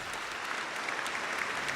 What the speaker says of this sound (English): So let's give them an applause, please.